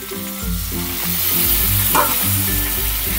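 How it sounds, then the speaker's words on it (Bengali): Ground cumin, coriander and turmeric masala frying in a pan with a splash of hog plum water, giving a steady close sizzle with stirring scrapes, while a tonal melody plays over it. "দিয়ে আমি মশলাটা কষিয়ে নেব"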